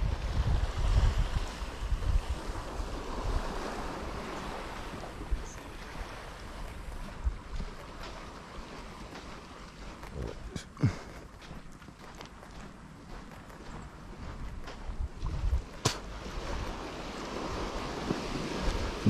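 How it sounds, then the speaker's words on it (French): Waves rolling onto the quiet beach of M'gouja, Mayotte, a continuous wash of surf with gusty wind buffeting the microphone and occasional sharp knocks and rustles close by. "c'est une belle plage tranquille"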